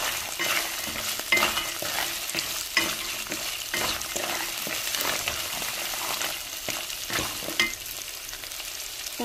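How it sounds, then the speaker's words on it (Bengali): Cashews frying in ghee with a little oil for a Lakshmi Puja dish, a steady close sizzle broken by repeated scraping stirs of a spoon in the pan, with no voices. "সামান্য একটু তেল দিয়ে ঘি দিয়েছি আমি, আর এটা একটু নাড়াচাড়া করে নিলাম। তারপরে দিচ্ছি কাজু।"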